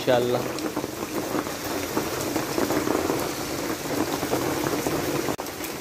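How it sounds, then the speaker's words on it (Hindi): Steady light rain patters continuously on surfaces, a soft even hiss with scattered droplet ticks throughout. "बारिश तो रुकी थोड़ी हल्की हल्की हो रही है"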